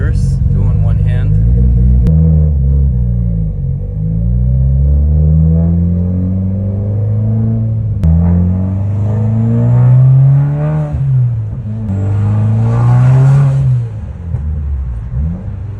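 A Mitsubishi Evo X drives along with a close, steady engine drone that rises and falls through several revs as gears change, under intermittent talk from the driver.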